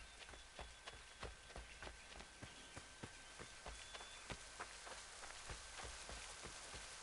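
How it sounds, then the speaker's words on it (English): Rain in the video game Assassin's Creed III falls as a quiet, steady patter. Regular soft taps run through it like slow footsteps. "let's get out of the rain"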